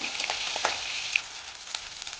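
Stuffed fish roasting in a pan over a low flame, a soft, steady sizzle heard close, with a few small crackles and pops and no talking.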